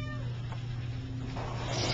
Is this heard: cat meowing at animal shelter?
yes